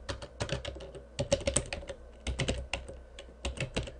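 Computer keyboard typing in bursts of quick, irregular keystrokes with short pauses between, fairly close and moderately quiet, with no voices.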